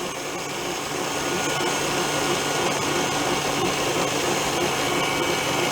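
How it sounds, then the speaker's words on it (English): An electric mixer blends pineapple pound cake batter with a steady whirring motor hum that runs continuously, moderately loud and close, with no talking. "I'm going to let that blend for a few minutes"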